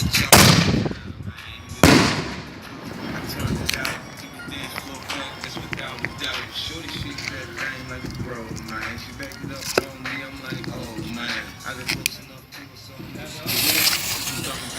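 A homemade spud gun fires with a sharp, loud blast near the start and another about two seconds in, followed by outdoor shuffling and scattered small knocks, then a softer burst near the end.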